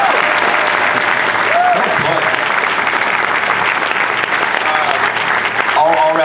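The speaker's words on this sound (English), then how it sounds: "You better applaud that." Loud, sustained applause and cheering from a comic con panel audience at an arena fills the whole stretch, with a voice speaking briefly over the crowd.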